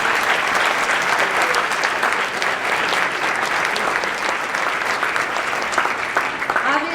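An audience at a school symposium for early college high school students gives sustained, steady applause, dense clapping filling the room with faint voices mixed in.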